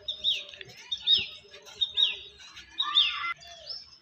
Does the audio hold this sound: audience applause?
no